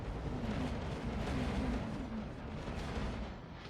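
Spaceship weapons fire in X4: Foundations, a continuous heavy rumbling barrage of booms and blasts under dense engine noise, fading slightly toward the end, with no voices.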